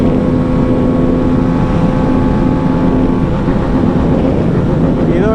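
A 2023 Hero Karizma XMR 200cc motorcycle engine held at the rev limiter in sixth gear, loud continuous high-revving drone with wind rush, near and unbroken, pitch wavering slightly toward the end.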